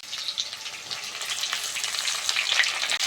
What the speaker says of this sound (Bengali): টমেটো আর কাঁচা লঙ্কাটা দিয়ে দেবো।